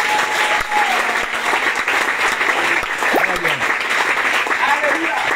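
Congregation applauding at a church celebration for the second anniversary of a women's group, steady dense clapping filling the whole stretch with scattered voices and cheers mixed in.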